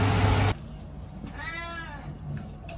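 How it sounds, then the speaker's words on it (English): A single short cat meow sounds close by, after a brief burst of sizzling noise cuts off, with quiet room noise around it. "the cat is meowing"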